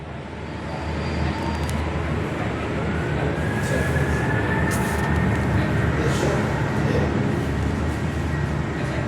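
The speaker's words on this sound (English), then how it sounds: "Qantas 737-800 is now departing Perth on runway 21." Qantas Boeing 737-800 jet taking off from Perth runway 21, a steady loud engine roar building and holding as it accelerates, heard from an indoor viewing platform.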